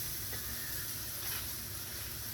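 Chicken pieces fry in a steel pan with a steady, quiet sizzle and hiss, a continuous bubbling crackle with no talking over it.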